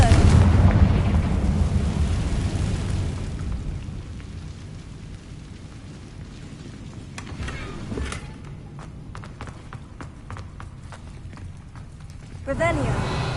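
A Confringo spell in Hogwarts Legacy bursts with a heavy, rumbling boom that starts loud and slowly dies away, followed by scattered crackles and a second low blast near the end.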